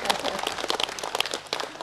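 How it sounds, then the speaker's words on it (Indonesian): Brief, scattered clapping from a modest audience at a community forum for seniors, a few distinct nearby claps over a thin crowd, fairly quiet. "Kita beri tepuk tangan untuk Mbak Tuti."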